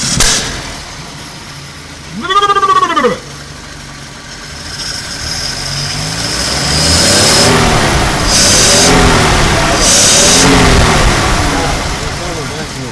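A Chrysler Windsor flathead engine with a points ignition and a rebuilt carburetor idles and is revved several times, the pitch rising and falling in smooth waves, while people talk nearby.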